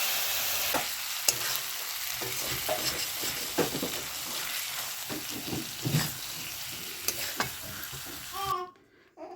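New potatoes for aloo dum sizzle in a pan while a spoon stirs and scrapes them in irregular knocks and scrapes over a steady frying hiss, cutting off abruptly just before the end.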